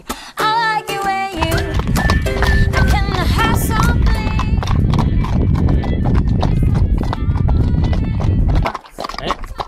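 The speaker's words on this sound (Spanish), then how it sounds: "nos vamos a darle un garbeito al caballo" A horse ridden out at an easy pace makes steady, loud clip-clopping hooves close by, with a brief whinny near the start and continuous noisy movement throughout.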